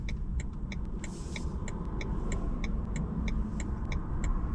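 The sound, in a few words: road traffic passing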